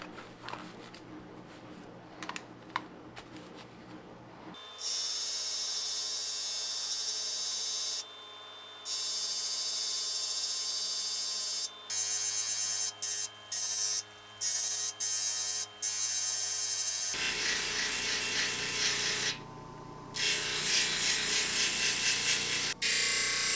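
A Cabking lapidary machine polishes agates on 3000 and 8000 grit with a loud, steady whirring grind. It starts after a quiet opening and is broken by several short stops and restarts.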